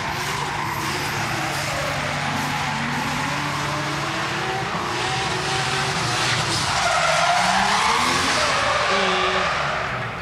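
A Toyota drift car sliding through a drift show qualifying run, tires screeching continuously for about ten seconds over a loud straining engine, the squeal swelling and shifting in pitch near the end, with no voices.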